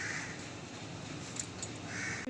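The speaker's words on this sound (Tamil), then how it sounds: "அந்த காக்கா கத்துன்னு நினைக்கிறேன்" A crow caws repeatedly near a tree, its harsh calls sitting within a steady, loud wash of outdoor background noise, with a couple of sharper cries standing out briefly.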